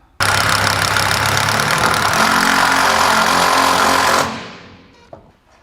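A power driver sets a fastener into a Maxima standing seam metal roofing panel, with one loud, continuous whirring drive lasting about four seconds, then a quick wind-down and a faint click.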